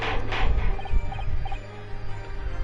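A short bird cry sound effect from the video game The Great Ace Attorney Chronicles, a gobbling, fowl-like call rising over game background music at moderate loudness.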